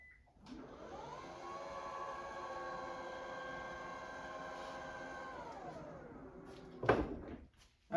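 A car's rear sliding door on a 2021-2026 vehicle with a dead battery rolls along its track for several seconds, pushed shut by hand, ending in a sharp latching thunk close by.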